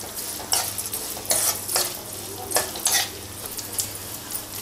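Pieces of edible gum (dink) fry and puff up in hot ghee in a pan for besan ladoo. A steady sizzle sits under repeated scraping stirring strokes at a loose rhythm.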